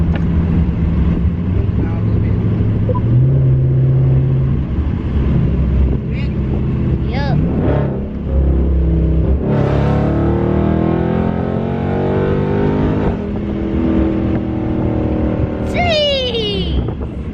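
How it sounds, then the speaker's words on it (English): 2021 Dodge Charger Scatpack Widebody exhaust revving, a loud deep rumble with rising and falling revs, close by, with brief talk in the car. "Ready to hear a little bit of the exhaust?"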